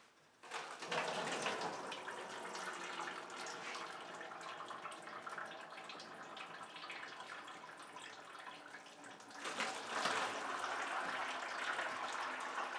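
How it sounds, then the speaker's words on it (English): Thick whiskey oatmeal mash drains from a mash tun into a bucket, making a steady, close wash of pouring and splashing liquid that rises again near the end, with no talking. "put it in there, and let it drain into my bucket"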